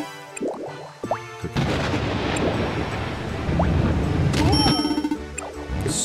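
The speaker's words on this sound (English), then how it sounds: "It sounds very stormy outside." A stormy typhoon roars in the video game Rune Factory 4: a sudden loud, sustained rush of wind and rain with rumbling thunder swells midway, framed by bright game chimes and interface tones.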